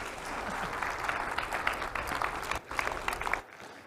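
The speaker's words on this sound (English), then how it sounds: "let's give my wife an applause" Audience applause from a crowd, steady clapping that fills the space for several seconds, briefly dipping before swelling again and then fading out at the end.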